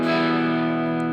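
Electric guitar through a dramatic large-room reverb effect on a Line 6 Helix, with reduced high end, a sustained chord ringing out and blooming into a dense wash of reflections for a moment, alone without talk.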